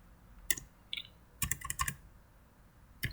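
Typing on a computer keyboard while programming a Delta PLC. Sparse, close, quiet keystrokes and a short cluster of clicks are heard over a faint background hum.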